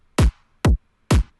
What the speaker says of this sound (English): Listen to the kick and clap together.